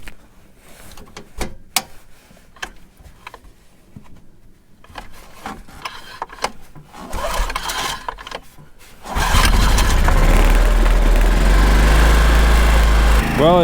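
A small portable generator at a cold campsite is pull-started. A few rope pulls and clatter come first, then the engine catches and settles into a loud, steady, buzzing run that continues to the end.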